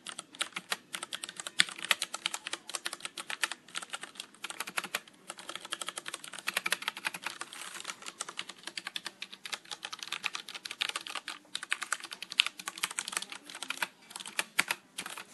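Continuous typing on a Ducky DK9008 Shine mechanical keyboard with Cherry MX Brown switches, with fast, dense key clicks and occasional louder bottomed-out strokes at close range, and no voices.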